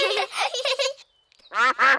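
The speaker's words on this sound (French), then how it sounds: "Oh, ce sont les canards." Cartoon ducks quack in quick bursts during a picnic scene, a few loud nasal calls close by, following a stretch of animated voices talking.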